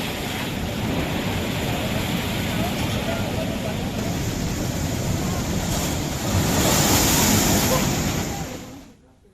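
Rough, stormy sea at Dwarka with heavy waves surging in a continuous loud roar, wind buffeting the microphone, swelling louder near the end before fading out abruptly.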